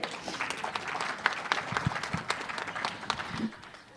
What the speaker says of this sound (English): can we really applaud for both of them?